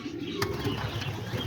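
Young pigeons about four weeks old and adult pigeons at feeding time, giving soft low cooing with a brief flutter of flapping wings, close and steady throughout.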